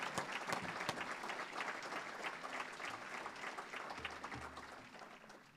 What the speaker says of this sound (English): Now we'll go a round of applause for our former inductees.